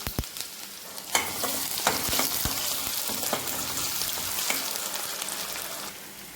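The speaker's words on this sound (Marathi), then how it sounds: "आता यात आपण चिरलेला एक कांदा घालूया कांदा छान लालसर परतून घ्यायचा आहे" Chopped onion sautéing in hot oil with mustard seeds and cumin for a bitter gourd dish, a steady loud sizzle with occasional stirring clicks and spatters throughout.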